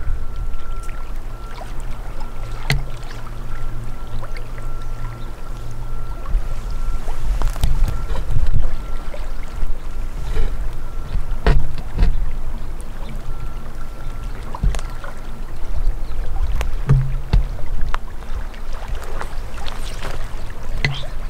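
Steady low rumble of a boat motoring down a river, with water rushing along the hull and occasional knocks and splashes, continuous and fairly loud throughout with no talk.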